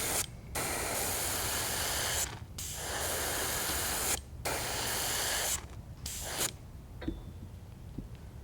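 An airbrush spraying black paint while painting a perch pattern on a fishing lure: long steady hissing bursts broken by brief pauses, close and even, then a few shorter puffs and small clicks.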